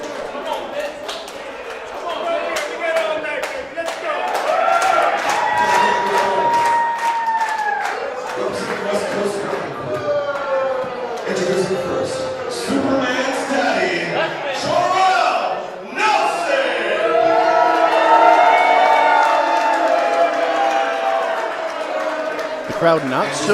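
A wrestling crowd at a Relentless Wrestling event cheers, whistles and claps for Fred Rosser, a steady roar of voices and applause under a commentator's talk.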